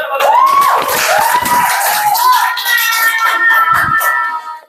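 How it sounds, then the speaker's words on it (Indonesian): A class of students cheers and whoops for a student group presenting in a school lesson, loud, high children's voices shouting continuously with some clapping mixed in. "Yuk, beri semangat ya."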